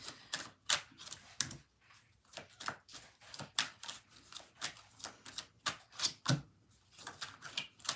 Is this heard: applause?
no